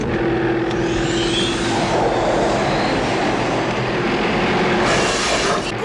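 A roaring vehicle chase in The Road Warrior, with loud engines, screeching metal and wheel squeal building to a crash as a car slams its brakes amid pursuing bandits, all dense and close.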